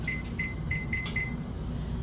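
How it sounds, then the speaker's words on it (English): Electronic kitchen timer beeping while creamed corn and chicken cook: five short, bright, evenly spaced beeps in a quick run, then quiet over a steady low stove rumble. "timer on for 20 minutes"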